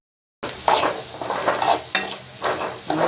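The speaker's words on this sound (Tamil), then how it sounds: "தேங்காய் பூ போட்டு நல்லா வதக்கிடுங்க." Bitter gourd stir-fry with grated coconut is sautéed in a pan, with a spatula scraping and tossing in repeated strokes about every half second over a soft sizzle, close and clear after a moment of silence.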